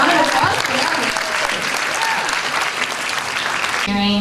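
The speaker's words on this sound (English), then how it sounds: "let's give a round of applause for that." A crowd claps steadily in dense, sustained applause that fills the whole stretch, cut off abruptly at the end by a brief tone.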